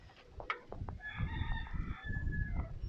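A rooster crows outdoors in Key West's Old Town, its drawn-out call rising clearly over a low outdoor murmur and rumble, with a few brief clucks before it.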